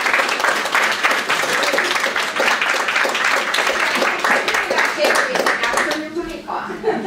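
Warm applause from a university audience welcoming an alumni speaker, dense steady clapping from many hands that thins and fades near the end, with talk briefly audible underneath.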